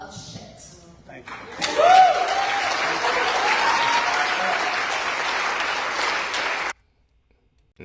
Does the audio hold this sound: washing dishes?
no